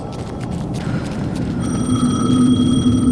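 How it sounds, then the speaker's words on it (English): A telephone rings in the horror video game Alan Wake 2, a loud bell trill that starts partway through and repeats over a low, rumbling ambient drone, with no voices. "The phone again."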